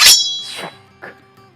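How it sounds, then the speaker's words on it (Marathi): A sword clang sound effect rings out: one sharp metallic strike followed by a ringing, swooshing tail and two fainter metallic echoes, loud and alone. "कानात तलवार स्वॉड रिंगटोन वाजली"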